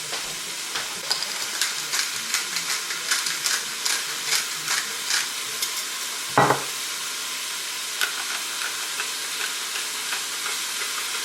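Ground beef seasoned with salt and pepper sizzles steadily in a pan, with repeated scraping and chopping strokes from a utensil and one louder clatter partway through, close up with no talking.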